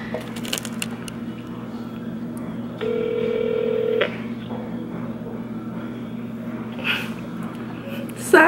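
A phone call placed on speakerphone gives a steady electronic tone for about a second partway through, over a low room hum with faint background noise.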